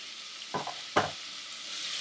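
Onions sauté in a pan with salt and turmeric, with a soft sizzle underneath and two brief scraping strokes of stirring near the middle.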